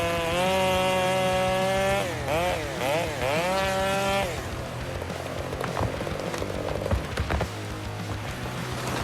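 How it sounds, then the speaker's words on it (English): A chainsaw revs with strong whining harmonics and wavering pitch as it bites into a tree trunk, then settles into a rougher, noisier cutting sound with scattered cracks; loud and close throughout. "As the blade makes contact with the tree trunk, the chain starts slicing through, sending sawdust flying."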